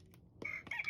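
An Alaskan Klee Kai dog lets out a brief, high-pitched wavering howl that imitates a rooster crowing, close and quiet, lasting under a second.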